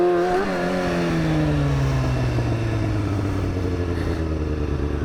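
A Yamaha FZ-07 motorcycle roars loud and close as it is ridden through wheelies, its engine pitch sliding steadily downward as it eases off, with no voices.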